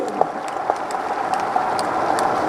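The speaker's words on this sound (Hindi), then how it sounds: "एक बार तालियां बजा के स्वागत किए" Audience applause at a public gathering in India, a sustained, even wash of many hands clapping together, steady and fairly close throughout with no voices over it.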